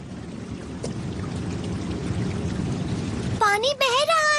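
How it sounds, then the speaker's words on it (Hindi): Water flowing and pouring in a Doraemon animated cartoon, a steady broadband rush filling most of the clip before voices and tonal cartoon sounds break in near the end. "पानी बह रहा है।"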